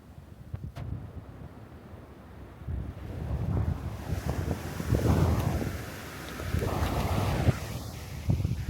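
Ocean waves break and wash onto a beach, rising in surges every couple of seconds under gusty wind buffeting the microphone, fairly close and moderately loud.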